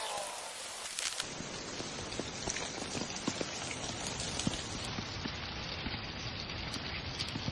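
Rain pours down steadily outdoors, a dense patter of drops on surfaces that starts suddenly after a brief quiet moment and then continues evenly.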